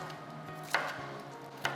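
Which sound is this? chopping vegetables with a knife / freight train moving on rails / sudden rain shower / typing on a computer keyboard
chopping vegetables with a knife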